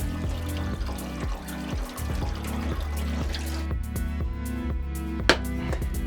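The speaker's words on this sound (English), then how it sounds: "we'll run some cold water and then run the lid under cold water" Cold tap water runs over the lid of a heavy pressure cooker during a pork miso soup preparation, a steady splashing, pouring stream with a brief metallic clank near the end and no talk.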